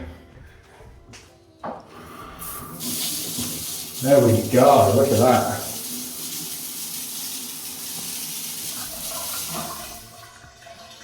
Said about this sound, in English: That looks like it's gonna be a power shower, a proper power shower.